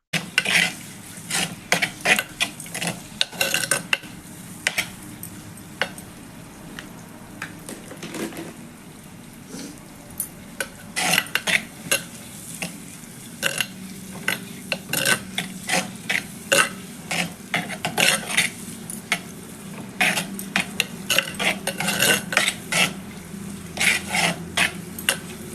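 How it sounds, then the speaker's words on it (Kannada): A spoon scrapes and clinks repeatedly in a pan as onions with turmeric powder are stirred over a soft, steady sizzle, the strokes coming in irregular bursts close by with no talking. "ಅರ್ಶಿನ ಪುಡಿ ಆ್ಯಡ್ ಮಾಡಿದ್ಮೇಲೆ ಚೆನ್ನಾಗಿ ತಿರ್ಸಿ."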